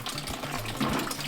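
Water gushing and splashing out of a car engine being drained during a first rebuild, a short burst of pouring liquid heard close up with no talk.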